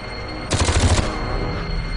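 Rapid automatic gunfire from a weapon in the video game Aliens versus Predator 2 rattles off in a loud, dense half-second burst, then stops.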